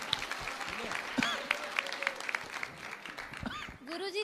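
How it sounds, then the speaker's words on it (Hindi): An audience at a spiritual discourse breaks into applause, a dense steady patter of many hands clapping at moderate distance, with a voice speaking over it and rising again near the end. "बहुत तालियों के साथ।"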